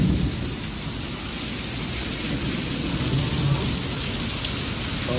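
Heavy rain pours down in a constant, dense roar, loud and close, with no voices.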